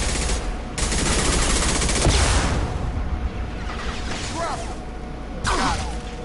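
Rapid bursts of automatic gunfire in a PS4 shooter game, loud and near, in rolling fusillades with swooshing effects and a voice talking at times.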